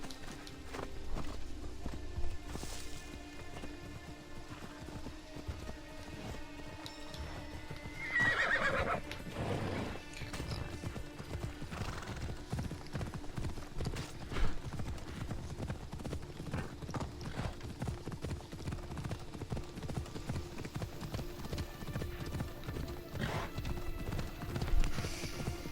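Horse hooves clip-clop steadily in Assassin's Creed Odyssey, with a couple of neighs and whinnies rising above the continuous galloping rhythm and in-game ambience, loud and close throughout.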